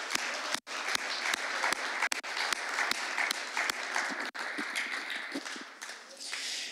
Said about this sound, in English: Can we give Jesus a hand clap of praise?